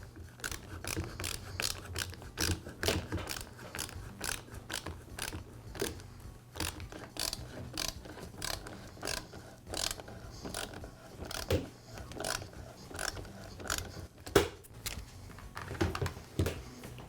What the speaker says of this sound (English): And I'll finish by tightening up the clamps.